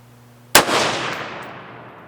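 A single sharp, loud crack from a .22 ARC rifle fired without a suppressor, followed by a long decaying echo rolling away over open ground.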